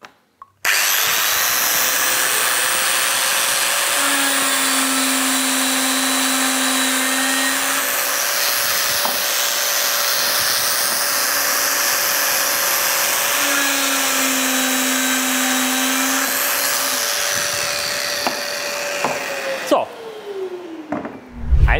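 A milling machine routes dowel holes into wood with a steady, loud whine that holds for about twenty seconds, picking up brief tonal shifts as it cuts, then winds down and stops.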